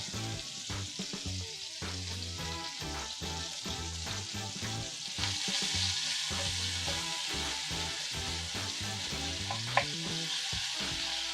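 A spoon, not quite the right tool, stirs pizza toppings in a sizzling pan for a from-scratch Detroit-style pizza. Close, steady frying hiss runs throughout, broken by frequent scraping knocks and clicks of the spoon against the pan, with no talking.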